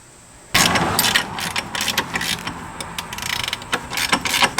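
A hand ratchet loosens the plate on a Maximum Motorsports spring tool during Fox Body suspension work, giving loud, close, rapid clicking bursts that start abruptly and continue with short pauses.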